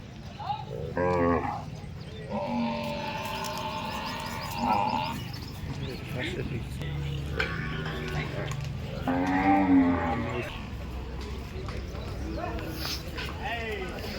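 Gir cows moo at a busy cattle market, several low, drawn-out calls rising over constant crowd chatter and background bustle. Someone talks nearby throughout.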